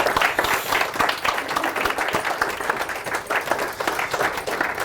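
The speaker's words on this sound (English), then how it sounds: "we'd just like to have a quick round of applause for all those people that have helped Hannah and Rich making this day so special" Wedding guests at speeches in a hotel applaud warmly, a close, lively patter of many clapping hands that swells and stays strong throughout, with no speech over it.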